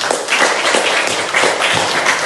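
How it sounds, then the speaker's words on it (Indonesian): Students in a classroom applaud a classmate with brisk, dense clapping that stays loud and even for a couple of seconds. "Tepuk tangan untuk Alfa."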